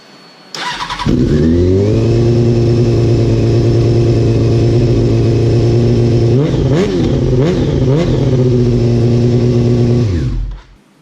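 Stunt motorcycle fitted with a cut-down stock muffler starts up and holds a loud, steady idle close by, blipped through a few quick revs near the end before shutting off; no talking.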